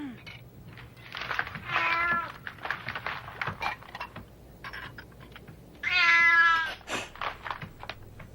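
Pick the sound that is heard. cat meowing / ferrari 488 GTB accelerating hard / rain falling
cat meowing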